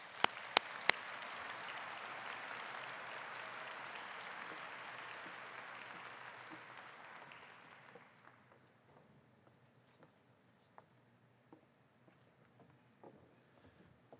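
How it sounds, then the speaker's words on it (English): A conference audience at a housing plenary session applauds to welcome a speaker, a dense, fairly distant round of clapping lasting several seconds before fading into a quiet room with a few scattered claps. "Let's welcome Attorney General Bonta with a big round of applause."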